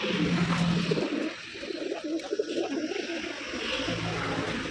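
Pigeons coo repeatedly at a pigeon farm, a soft murmuring chorus of several birds close by, running steadily with no talk over it.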